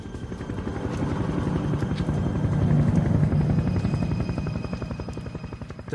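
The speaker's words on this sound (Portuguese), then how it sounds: "Na minha direção, vinha o som inconfundível de um helicóptero." A helicopter's rotor thumps in a rapid, steady beat, swelling gradually louder as it draws nearer, then holding strong.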